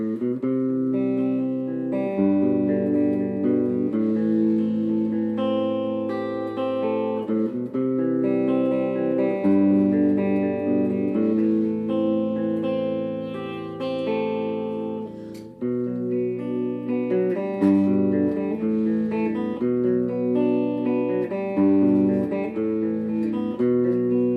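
A clean electric guitar with both pickups engaged plays sustained chords and notes through an Orange Crush CR120C 2x12 combo amp with reverb, loud and alone, with one brief dip midway.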